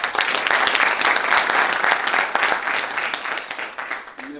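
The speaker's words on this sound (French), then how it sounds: "des étudiants que je vous demanderai s'il vous plaît d'applaudir." An audience at the opening of an international French didactics colloquium applauds the students, with dense clapping that holds strong and then thins out and fades over the last second.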